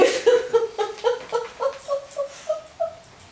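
Shaggy dog whimpering and yipping in a rapid series of short, high, pleading cries, close and fairly loud, repeating in an uneven rhythm.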